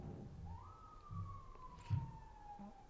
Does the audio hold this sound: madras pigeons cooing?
no